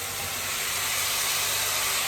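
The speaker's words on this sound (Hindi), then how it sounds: "अभी तड़के में ऐड कर देंगे हमारी कटी हुई सब्जी," Chopped cauliflower and potato hit a hot tempering in the pan, giving a steady, loud broadband sizzle and hiss that holds evenly for a couple of seconds with no talk over it.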